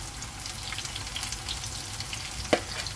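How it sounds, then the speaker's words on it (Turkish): Steady sizzling and crackling of zucchini slices frying in a hot pan, with a brief clatter of a utensil near the end. "güzelce her tarafını kızartalım."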